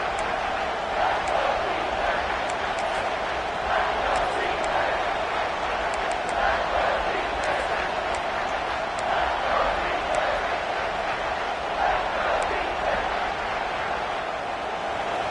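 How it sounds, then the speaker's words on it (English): A steady, distant roar from a stadium crowd at an Auburn versus Ohio State college football game, swelling slightly in places beneath continuous play-by-play commentary. "the crowd coming to life here, trying to help this defense down in the red zone"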